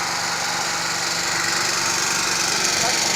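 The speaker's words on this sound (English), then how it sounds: "So this is gas running on the gasoline generator." Gasoline generator fitted with a dual-fuel carburetor running on gasoline, a steady buzzing engine drone, loud and close, continuous throughout.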